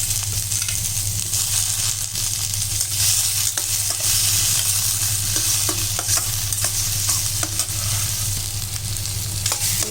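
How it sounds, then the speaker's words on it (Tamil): Onion and tomato sizzle and fry in a pan while being stirred, a steady close crackle with scraping and clinks from the utensil, no talking. "வெங்காயம், தக்காளியெல்லாம் நல்லா வதங்கிடுச்சு"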